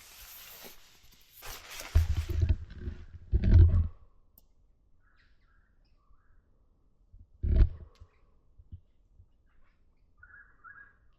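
Faint, scattered bird calls outdoors on Mt Gingera in the morning, in a quiet setting, with a few louder thumps and rustles close by.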